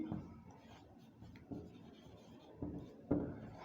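Marker or chalk strokes on a classroom board during an organic chemistry lecture: soft, quiet scratchy rubbing in several short bursts, with a slightly stronger stroke near the end, no talk.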